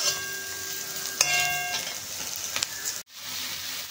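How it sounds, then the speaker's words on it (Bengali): Mixed vegetables sizzle steadily in a hot wok with a bright crackling hiss and a few utensil taps; the sound cuts off briefly near the end. "এইভাবে আমরা সমস্ত সবজিগুলোকে একে একে ভেজে নিচ্ছি।"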